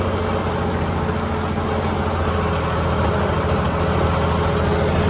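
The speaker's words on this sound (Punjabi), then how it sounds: "ਪੂਰੀ ਜਾਨ ਨਿਕਲਦੀ ਪੂਰੀ ਟਰੈਕਟਰ ਦੀ" A John Deere tractor engine working under load, a loud, steady low diesel drone with an even throb running throughout, close up and without talk.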